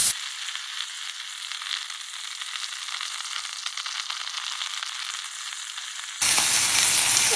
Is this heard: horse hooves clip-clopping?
no